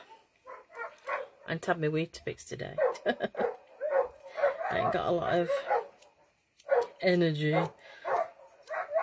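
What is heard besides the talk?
dogs barking and whimpering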